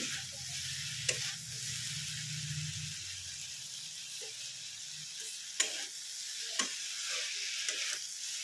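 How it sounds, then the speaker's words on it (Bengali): Potato and snake gourd curry frying in a covered pan without water, a quiet, steady sizzle with occasional sharp clicks and taps of a spatula or lid. "ভাজা ভাজা মতন করবো, এতে বিশেষ জল দেবো না।"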